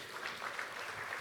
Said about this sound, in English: Please, one more round of applause for His Excellency